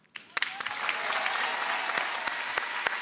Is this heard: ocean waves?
no